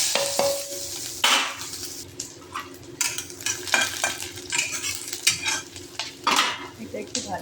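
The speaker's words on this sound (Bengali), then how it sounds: "ওই তেলের মধ্যে পেঁয়াজ রসুন লঙ্কা কুচি দিয়ে দেবো" Chopped onion, garlic and slit green chillies fry in oil left from frying fritters, with a steady close sizzle broken by repeated spoon scrapes and clinks against the pan.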